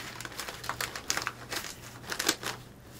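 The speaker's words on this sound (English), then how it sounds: "So we'll tape this to the box here" Strapping tape and paper streamers crinkle and crackle as they are pressed and taped onto a gift box, a run of close, quiet crumpling bursts with no talking.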